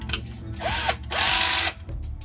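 A power drill with a Phillips head bit whirs in two short bursts, each with a rising then falling whine as the screw drives in, fitting a fishing rod holder to a kayak, close by and alone.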